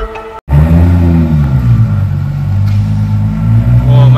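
Nissan GT-R Skyline sports car engine revving loudly and close, a deep sustained rumble that rises and falls after a brief cutoff near the start.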